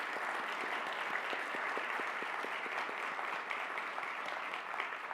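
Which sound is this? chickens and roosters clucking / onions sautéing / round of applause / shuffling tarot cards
round of applause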